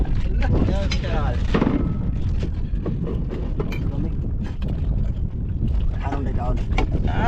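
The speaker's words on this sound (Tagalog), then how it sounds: "Malakas ang agos, malakas pa ang hangin." Strong wind buffets a boat out at sea, roaring and gusting loudly against the microphone over the rumble of water and the vessel, with voices talking throughout.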